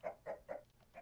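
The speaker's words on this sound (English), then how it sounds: "Chicken." Clucking of a chicken in the Minecraft video game, a row of four or five short, evenly spaced clucks at moderate volume with no other sounds.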